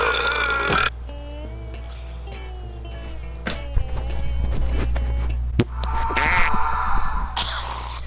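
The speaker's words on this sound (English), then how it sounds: "Did me stopping to fart in the mic just save my life?" A fart goes into a microphone during a Farming Simulator session, a loud close blurt at the start that breaks off sharply, followed by scattered clicks and thumps over a constant low hum.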